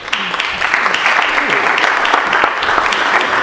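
Audience at an Alcoholics Anonymous meeting applauding, a dense, steady round of clapping from a roomful of people at close range that carries on without pause.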